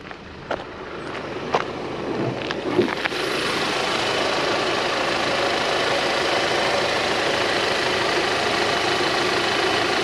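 A 2012 Audi A4 Avant S-Line two-liter engine idles with the hood open, a steady close, even hum with a few faint clicks and knocks at the start before settling into a constant drone.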